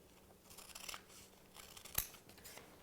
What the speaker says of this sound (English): I'm going to cut here.